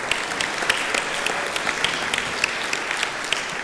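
Audience at a high school spring orchestra concert applauding, a dense continuous patter of many hands with a few sharper claps standing out, fairly close and steady throughout, no speech.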